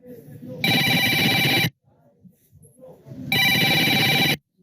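A telephone rings in two loud electronic bursts, each about a second long, separated by a quiet gap with faint background sound.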